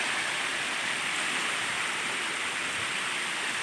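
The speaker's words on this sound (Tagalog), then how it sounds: "Waterfalls po yan." Steady, full-band rush of a waterfall partway up a cool mountainside beside a swimming spot, loud and unbroken throughout with no voices.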